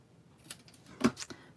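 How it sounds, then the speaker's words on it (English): Scissors make a few quiet snips as they trim angled ends on a strip of cardstock for a handmade stamped card, with soft crisp clicks clustered near the end and no speech. "I'm going to take my scissors and I'm just going to add a little angle on both ends here"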